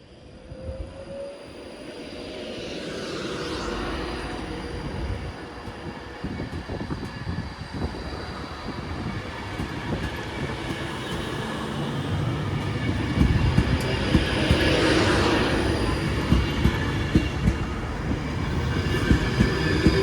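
A Class 390 electric train pulls out of Stoke-on-Trent station bound for Manchester Piccadilly, a rumble that builds as the wheels clatter and squeal faintly, growing louder and closer over twenty seconds with no voices.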